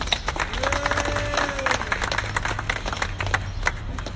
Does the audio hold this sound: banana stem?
no